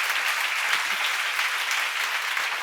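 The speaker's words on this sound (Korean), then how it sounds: "박수 세게 쳐." Seminar audience at a church Bible study clapping hard in unison, dense and loud applause that stays constant throughout with no voices on top.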